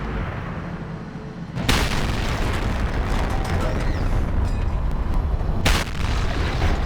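Waffenträger auf E-100 tank destroyer firing its 12.8 cm cannon in World of Tanks: two heavy, loud booms a few seconds apart over a dense, rumbling battle backdrop.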